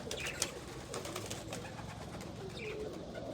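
Pigeons coo softly in a loft where grain is being fed, low rolling calls repeating under light background noise, with no talk.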